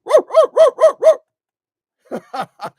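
A person imitates a dog barking: five quick, even woofs, a pause, then three shorter, weaker barks, close and loud.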